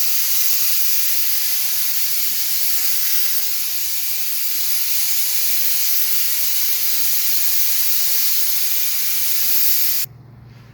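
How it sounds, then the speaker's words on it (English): A steady, loud hiss of aerosol spray adhesive runs continuously for about ten seconds close by, then cuts off abruptly, while wrapping a 1961 Impala panel. "Back here I'm gonna spray adhesive"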